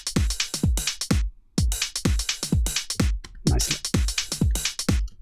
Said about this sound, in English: I think these later ones get a bit crazier with the hats.